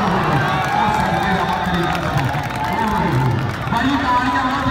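A crowd at an outdoor kabaddi match claps and cheers as a point is scored, heard under a loud, continuous commentator's voice.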